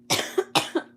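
Two quick double coughs, close and dry, each burst followed by a softer catch of breath, with quiet between.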